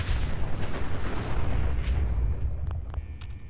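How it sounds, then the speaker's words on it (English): A heavy explosion in the Fallout 4 video game, a loud booming blast with a rumbling low tail that slowly fades, followed by a few faint sharp clicks and chimes. "Okay, explosion,"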